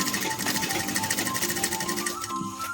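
A sewing machine stitching fabric for a door curtain runs in a fast, steady mechanical chatter with a rapid rhythmic needle pulse, close and continuous throughout.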